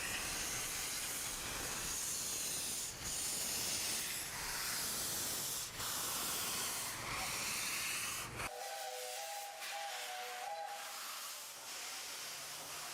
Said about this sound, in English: locomotive is used for a special safari steam service on the Mombasa-Voi line